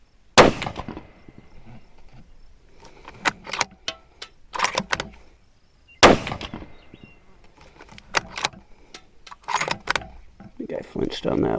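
A Ruger American Gen 2 rifle loaded with Hornady custom ammunition fires two sharp, loud shots about six seconds apart. Quieter bolt and handling clatter sits between them, and someone talks throughout.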